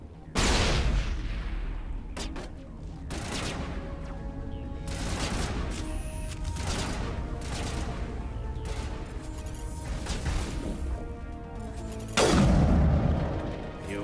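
Grenade blasts and heavy weapon fire in the video game Mass Effect Legendary Edition, a dense run of loud booms and bursts that continues the whole time, with an especially heavy explosion near the end.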